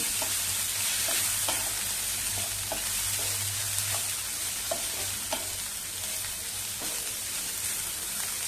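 Bitter gourd sautéing in hot oil in a pan gives a steady, close sizzle throughout, with scattered light scrapes and clicks from stirring and no voices.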